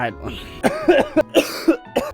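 A person coughs in a string of short, close bursts, four or five sharp hacks with throat clearing between, interspersed with speech.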